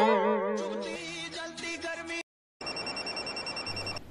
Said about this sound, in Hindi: आ गया ऑफिस से फोन